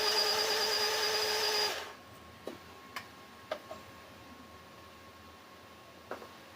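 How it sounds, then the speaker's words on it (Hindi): Electric mixer grinder blending batter in a home kitchen, a loud whirring for under two seconds that cuts off abruptly, followed by a few faint scattered clicks in near silence. "मुझे ऐसे ही ज़्यादा अच्छा हो जाता है मिक्सर में, बहुत ही मतलब फ्यू सेकेंड में काम बन जाता है।"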